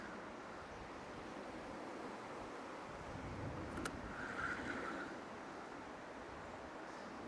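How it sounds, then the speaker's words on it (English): Wind blowing by a riverbank on the River Calder, a faint steady rushing wash with a slight gust swelling midway, no voices. "And the wind's picking up now,"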